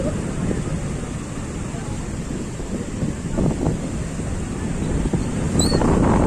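Steady, loud rushing of a rain-flooded stream overflowing near Devaruppula village fills the whole clip, with wind buffeting the microphone and no talk.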